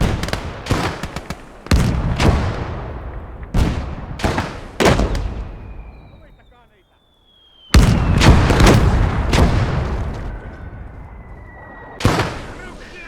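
Artillery and mortar rounds explode in the World War II game Gates of Hell, a series of loud booming blasts in irregular bursts, with a quiet lull midway and a whistling round overhead.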